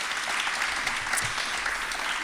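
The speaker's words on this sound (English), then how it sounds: "we'll give you a quick round of applause" Audience at a United Way of Bucks County event applauding new board members, a steady, moderately loud wash of many hands clapping throughout, with no voices.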